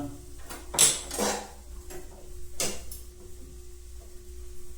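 Pots and pans clatter in a home kitchen while roti is toasted on a pan, a few sharp metallic clanks and knocks spaced out over a quiet background hum.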